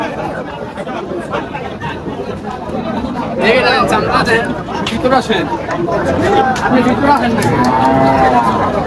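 Cattle low and moo repeatedly at a busy rural cattle market in Faridpur, close and fairly loud, over constant crowd chatter and people talking nearby.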